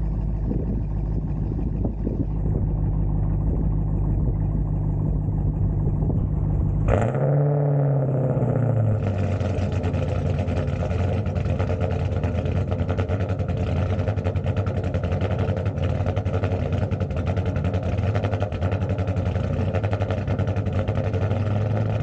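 A cammed 392 Hemi V8 in a car, heard close and loud: a deep rumbling run that drops abruptly around a third of the way in, then settles into a lumpy, choppy idle for the rest.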